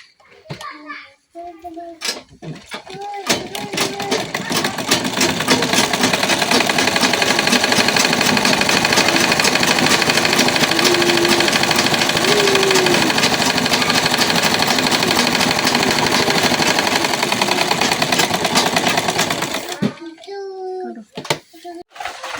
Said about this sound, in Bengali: এখন একইভাবে এই সাইডটাও সেলাই দিয়ে নেম।